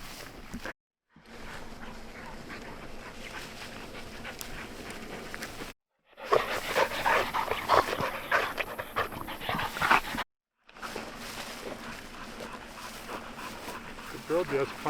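A hunting dog pants heavily up close during training on an open prairie, with a few soft whimpers, amid rustling movement and wind, broken by two brief silent gaps.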